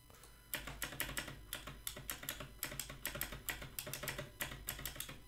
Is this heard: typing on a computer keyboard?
yes